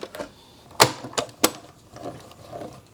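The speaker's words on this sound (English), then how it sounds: "Let me grab my Stampin' Cut and Emboss machine and we'll run all those in one pass" A Stampin' Cut and Emboss machine feeds paper tag pieces through in one pass, giving a few sharp mechanical clacks and clicks, close and fairly loud, with a low whirring grind between them.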